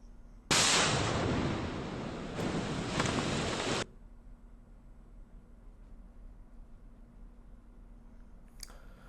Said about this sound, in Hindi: धमाके के साथ आवाज भी आप सुन पा रहे होंगे